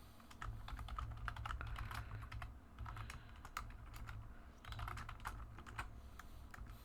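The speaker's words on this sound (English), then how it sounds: "I have to type, which means you get to hear me typing." Rapid clattering keystrokes on a computer keyboard, recorded close during a live game stream, coming in bursts separated by short gaps over a constant low hum, with no talking.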